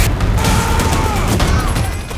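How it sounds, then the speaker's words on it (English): Gunfire from a sniper action movie trailer, a loud, dense barrage of shots and booming impacts that fills the whole moment, layered with heavy low rumble and trailer sound design. "You put a bullet in his head."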